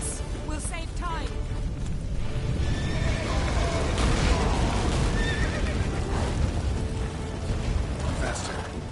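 Horse neighing and hooves galloping in the video game The Witcher 3, a few whinnies over steady clip-clop and a dense rushing game soundscape, fairly loud and continuous.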